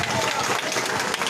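Audience applause opening a picture-competition prize-giving ceremony, a brief full burst of crowd clapping that stays dense and steady.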